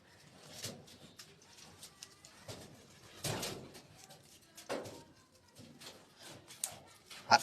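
A newly bought pigeon, its wings bound with tape, gives faint, soft intermittent coos in a quiet setting, with scattered light rustling between them.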